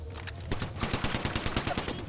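Automatic gunfire in the video game Apex Legends, a rapid, loud burst of evenly spaced shots that starts after a short lead-in and keeps rattling to the end.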